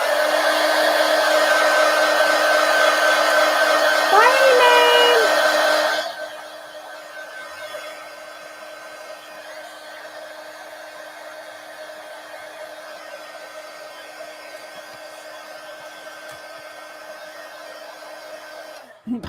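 A hair dryer blows steadily and loudly for about six seconds while drying damp napkin art journal pages, then shuts off, leaving a faint hum and quiet room tone.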